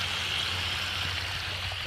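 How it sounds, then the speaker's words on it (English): Water flows wide open through a waterproofing drainage system, a steady hissing rush like a small stream, close and unbroken. "Water's been flowing wide open the whole time."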